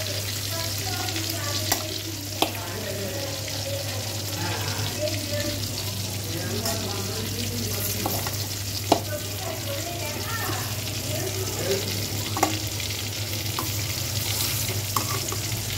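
Brinjal pieces being pressed and fried in a pan for vankai kurma, a continuous frying sizzle with scattered sharp clicks and scrapes of a utensil against the pan throughout.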